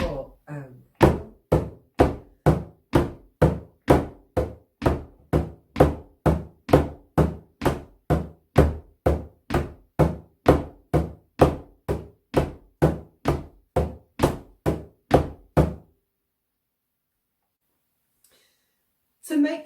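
Steady, evenly spaced drum strokes played in quavers for a Celtic folk rhythm exercise, each hit crisp and close, about two per second for roughly fifteen seconds before stopping into silence.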